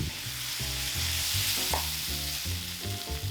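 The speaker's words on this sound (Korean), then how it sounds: "채소 다 넣고 볶아주다가 간장 조금, 청주 조금" Vegetables for gochu japchae stir-fry with soy sauce and cheongju in a hot pan, a loud, continuous sizzle under steady background music.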